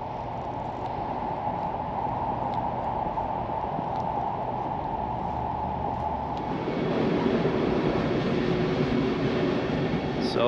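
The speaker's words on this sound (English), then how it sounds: "So join me on this ride to Luxembourg." Steady rumbling interior noise of an international train travelling from Aachen toward Luxembourg, a continuous loud roar that swells and brightens about two-thirds of the way through, with no talking.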